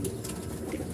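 Pigeon cooing close by, a soft low murmuring coo running continuously through the moment against faint background noise.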